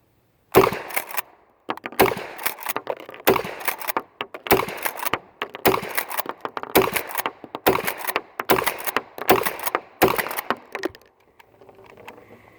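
A shotgun firing mini shells, with about ten sharp, loud shots spaced roughly a second apart, then quiet.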